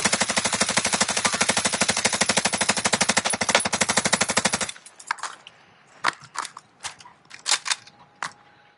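Loud, rapid automatic gunfire from Call of Duty Warzone rattles continuously for several seconds, then breaks into scattered single shots and short bursts, some nearer and some farther off.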